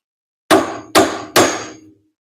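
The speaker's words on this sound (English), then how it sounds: "So let me see if I can hammer that." Three sharp hammer strikes on a Miata rollbar being knocked into place, evenly spaced and loud, each ringing briefly before the next.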